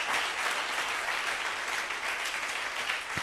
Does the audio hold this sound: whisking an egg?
no